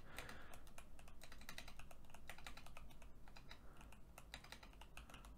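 Someone typing a search into a computer keyboard in game-modding software: a steady stream of quick, light key clicks, close up and fairly quiet, with no voice.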